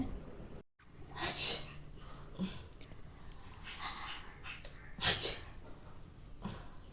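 A child gives a few short sneezes and snorty breaths close by, separated by pauses, with faint background noise.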